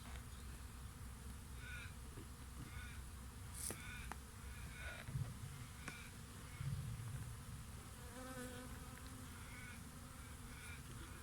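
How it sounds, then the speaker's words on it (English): Honey bees from a nucleus colony buzz steadily as their frames are shifted into a hive box, a continuous faint hum with a few brief sharper sounds in between. "I just want to get these bees into that box."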